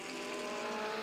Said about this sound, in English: Cars streaming their way out of Sabat, battling for position all the way down the field